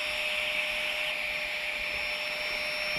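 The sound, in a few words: electric air pump inflating a tent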